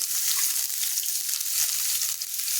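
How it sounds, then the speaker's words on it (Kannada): Mustard seeds and cumin splutter in hot oil while tempering for a drumstick-leaf palya, a steady close crackle and sizzle with no voices. "ಸ್ವಲ್ಪ ಸಾಸಿವೆ ಜೀರಿಗೆ ಸ್ವಲ್ಪ ಚಟಪಟ ಆಗ್ಲತ್ತವ"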